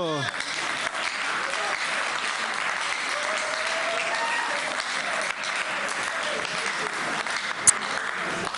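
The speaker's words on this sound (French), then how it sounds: "est-ce qu'on peut applaudir" An audience at a Christian debate applauds with a steady, dense roar of many hands clapping that holds at an even level throughout, with faint voices mixed in.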